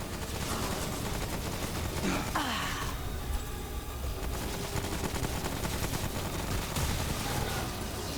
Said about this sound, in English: Lasers.